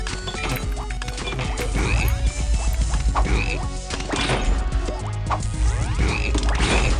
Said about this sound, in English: Oh, exploding frogs! Exploding frogs!